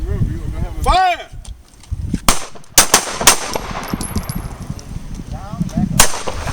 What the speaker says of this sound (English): go ahead and pull the trigger. Remember, you're gonna have a fire!